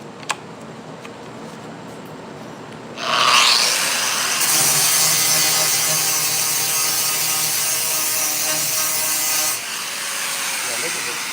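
Hercules clamps being screwed down onto the lower quarter panel of a 1968 Pontiac LeMans, a steady ratcheting, rubbing mechanical sound running for several seconds close by, with voices talking over it.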